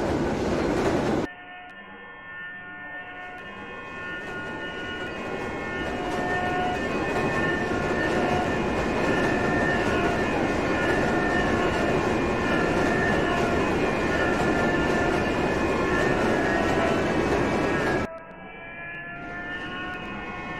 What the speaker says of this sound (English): We are now in a South Ferry bound one train leaving 191st Street in the Minecraft map.